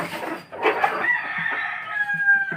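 Chickens, including a broody hen, cluck and a rooster's drawn-out crow rises nearby in the early morning, with short clucks repeating throughout.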